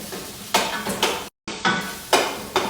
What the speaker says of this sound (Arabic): والحين راح نحمرها في الزيت ونخليها تصير لونها بني غامق